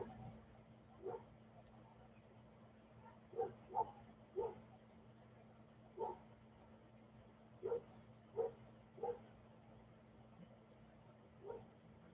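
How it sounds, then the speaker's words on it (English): A big pit bull barks from across the street, about eight faint, distant barks spaced irregularly over a steady low hum indoors. "Sounds like the dog next door across the street."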